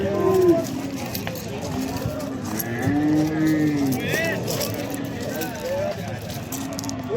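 Several calf moos ring out among a noisy crowd of livestock at the Oqtepa livestock market, voices chattering nearby and overlapping the bellowing calls.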